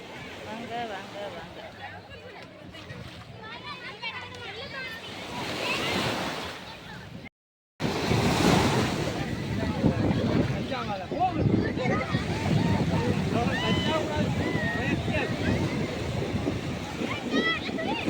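Sea waves surge and wash onto the beach at Velankanni in a continuous broadband roar with wind buffeting the microphone; a brief dropout interrupts it midway, and people talk over the surf throughout.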